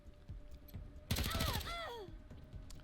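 Gunfire from a puncture shot in Wasteland 3, a sudden loud burst of rapid shots followed by ringing, descending metallic tones that fade out, over a low background hum.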